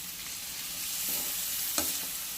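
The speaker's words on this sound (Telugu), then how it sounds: "టమాటా పీసులు, స్ప్రింగ్ ఆనియన్స్, కొంచెం కొత్తిమీర, ఇవన్నీ కొంచెం ఫ్రై అయితే చాలండి" Tomato pieces, spring onion and coriander sizzle softly in a pan, a faint steady hiss broken by a couple of light stirring scrapes and one brief clatter.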